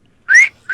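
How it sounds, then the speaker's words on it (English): A person gives a close, loud rising whistle, followed by the start of a second one, with no talking. "Audible whistle."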